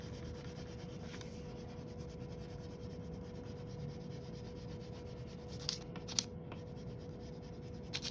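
Coloring tool rubbing steadily on paper while filling a section of a rainbow drawing with red, a faint, close, continuous scratchy sound with a few slightly louder scrapes near the end.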